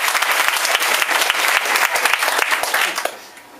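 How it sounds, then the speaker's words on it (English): Loud, dense applause from a crowd at a high school event honoring the girls' volleyball team, clapping steadily for a few seconds before tapering off at the end. "Let's give them a round of applause."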